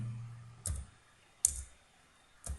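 Three separate clicks of keys on a computer keyboard while C code is typed, sharp and close with pauses between them in an otherwise quiet room.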